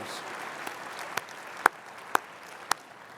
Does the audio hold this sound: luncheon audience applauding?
yes